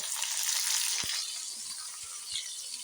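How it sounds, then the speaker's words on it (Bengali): Onions frying in oil in a wok (korai) for a tripe curry give a steady, close hiss and crackle, with a few soft low knocks under the sizzle. "আমার আম্মু কড়াইতে তেল দিল তারপর পেঁয়াজ দিল"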